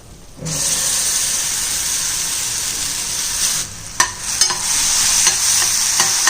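Shallots, ginger-garlic paste and fennel seeds sauté in a pan for a Tamil chicken gravy, giving a steady loud sizzle with occasional stirring scrapes and clinks toward the end, no talking.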